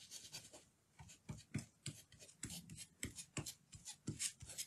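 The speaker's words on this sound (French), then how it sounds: "je vais refaire le même principe puis venir brosser doucement" A brush sweeps gently over thin card stock during birthday-card finishing, making soft, quiet scratchy strokes in an irregular rhythm of roughly a dozen brief rubs, close up and with no talking.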